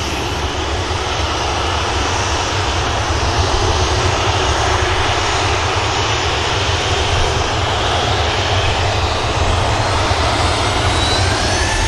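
A Ryanair jet rolls out at Manchester Airport, its engines making a steady, loud broadband roar that holds constant throughout with no voices.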